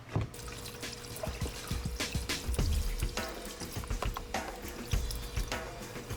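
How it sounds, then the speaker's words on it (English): A baking soda and water rinse is poured over a crawler tractor's clutch plate and final drive parts, giving a splashing, trickling flow with drips and metallic knocks, fairly close and continuous. "here is half a box of Arm & Hammer baking soda and water. And we're going to use it as a rinse"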